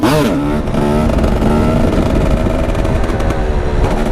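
A 300cc two-stroke supermoto motorcycle revs hard and close, its high buzzing engine note climbing and holding loud throughout.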